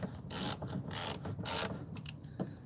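A ratchet works loose old, worn-out bolts on the mud flaps of a Peterbilt truck, with several close, loud bursts of rapid clicking separated by short pauses.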